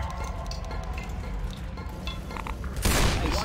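Gunfire in Left 4 Dead 2 crackles in a dense, continuous burst with a heavier boom near the end, loud and busy against a constant background rumble.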